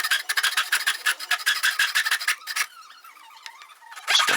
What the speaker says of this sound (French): là je scie à l'extérieur de ma marque